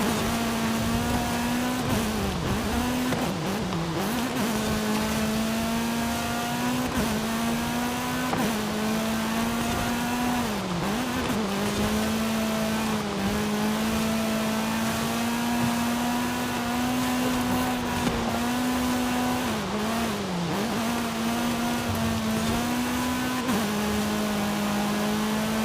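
A Renault Mégane R26.R races in Forza Horizon 5 in a retro street championship. Its engine holds a loud, high-revving drone with brief dips at gear changes, and no voices are heard.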